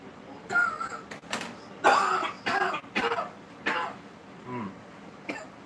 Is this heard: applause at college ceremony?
no